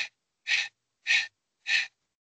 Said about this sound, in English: is pumping the air out of your lungs with your abdominal contraction